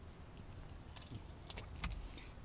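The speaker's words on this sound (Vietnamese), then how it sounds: "Em rút cái chìa khóa" A key is pulled from the ignition of a 2019 Toyota Innova G, the bunch of keys jangling in several quick, light metallic bursts, close but soft over a low steady background hum inside the car.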